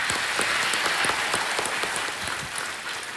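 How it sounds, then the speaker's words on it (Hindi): A television quiz show studio audience applauds steadily to welcome a contestant, a dense even wash of clapping that holds for several seconds before easing slightly. "तालियों के साथ इनका स्वागत किया जाए"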